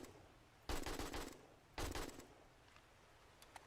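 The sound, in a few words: gunfire from the video game 7 Days to Die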